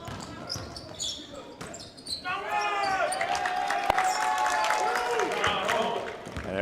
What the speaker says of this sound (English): And everybody's applauding the guys that are getting garbage time